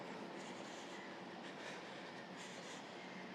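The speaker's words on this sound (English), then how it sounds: "There's the train." A Singapore MRT train runs past Paya Lebar station with a faint, steady rolling rush and soft rail clatter that continues without a break.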